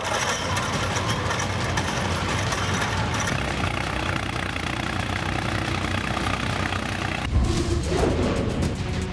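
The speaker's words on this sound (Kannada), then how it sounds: "ರೊಚ್ಚಿಗೆದ್ದ ರೈತ ಟ್ರ್ಯಾಕ್ಟರ್ ಮೂಲಕ ತಮ್ಮ ಹೂ ತೋಟವನ್ನೇ ನಾಶ ಮಾಡಿದ್ದಾರೆ" A tractor engine runs steadily while flattening a two-acre chrysanthemum flower field in Kolar, a continuous loud diesel drone with a rough low rumble and a brief thud near the end, no voices.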